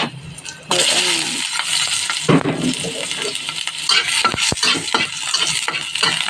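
Garlic and onion fry over high heat in a pan, sizzling loudly and steadily while a utensil scrapes and clinks as they are stirred, with a quieter lead-in before the sizzle jumps up.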